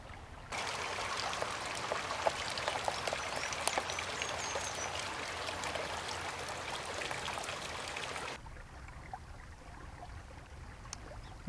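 A small stream with logs placed in it, at the old Fairview Training Center in Salem, flows and trickles steadily close by for about eight seconds, then drops away to a faint background wash.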